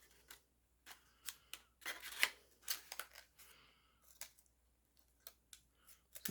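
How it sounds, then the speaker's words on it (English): Scissors snip through a paper envelope along its fold lines, a series of close, quiet cutting strokes coming in short irregular bursts in an otherwise hushed room. "Cut right to those fold lines."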